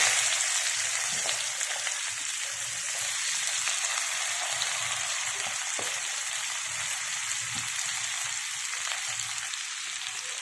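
Chopped onions fry in fresh hot oil for a home-style egg curry, giving a steady, close hissing sizzle with faint crackles and occasional soft taps, no voices.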